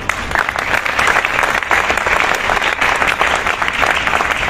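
A crowd applauds in a loud, sustained burst, many hands clapping densely and evenly from start to finish.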